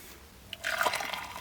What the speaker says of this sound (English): Pour in the vinegar.